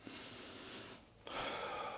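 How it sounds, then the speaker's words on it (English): Someone takes two long, close nasal sniffs of Azzaro Homme Wild Mint fragrance, split by a short pause, breathy and airy with no talk. "Let's sniff it out."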